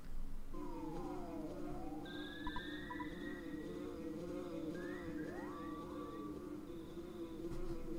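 The bee Buzz Buzz from the game Earthbound makes a faint, steady buzz. Gliding electronic tones and sweeps sit over a low background hum.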